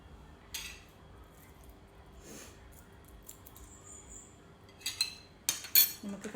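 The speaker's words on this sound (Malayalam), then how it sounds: "അപ്പോൾ ഞാൻ കത്തിയും കൊണ്ട് കുഞ്ഞതായിട്ട് അരിയട്ടെ" Knife finely chopping dried meat, a few soft isolated cuts at first, then a quicker run of crisp, close chops near the end, no voices.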